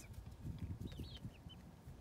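Backyard chickens murmur with soft low clucks close by, joined by a few faint higher chirps, quiet and continuous with no talk.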